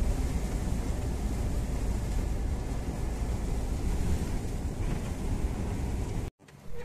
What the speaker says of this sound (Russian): Хороший такой дождик идет.